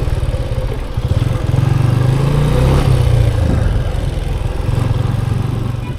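A motorcycle engine idles and putters steadily up close as the bike is ridden in and parked at a garden outlet in Lonavala, with a slight rise in revs midway before settling back to idle.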